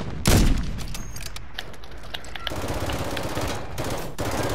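Rapid gunfire in the video game Call of Duty opens with a sharp, loud burst, then continues as dense overlapping shots and automatic fire at a steady, moderate level.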